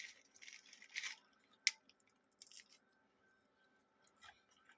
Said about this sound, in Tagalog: Matigas yung mani ko. Pero maganda siya pagkaluto, crunchy.